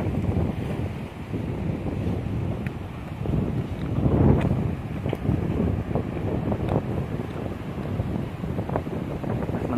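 Steady wind buffeting the microphone outdoors, a continuous rushing roar with faint water sounds underneath, no talking.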